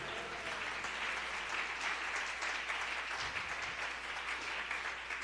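Congregation applauding during a church service, a continuous wash of many hands clapping at a fairly distant, soft level with little talk over it.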